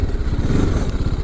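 A TVS Apache RTR 310 motorcycle ridden over a rough, broken road, a loud close engine drone with steady low pulsing, bumpy clatter and wind rush throughout.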